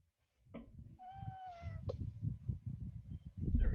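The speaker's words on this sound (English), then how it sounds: "At least I thought I heard a meow." A cat meows once, a clear, drawn-out mew in the middle distance, heard over a low rumble of ongoing muffled background noise.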